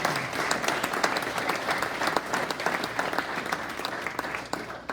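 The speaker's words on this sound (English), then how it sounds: "So give him a round of applause." A crowd applauds at a high school boys soccer alumni social, sustained moderately loud clapping with distinct individual claps, tapering slightly toward the end.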